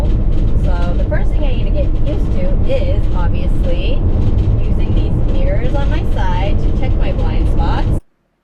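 Steady, loud road rumble and cabin noise from a large big-rig van driving down the road, continuous throughout and cutting off sharply at the end, with a person talking over it.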